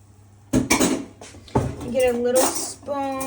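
Metal spoon clinking and scraping against an oven pan while scooping cooking liquid from around Korean BBQ short ribs, a few sharp clatters in bursts, close and fairly loud, with a voice speaking in between.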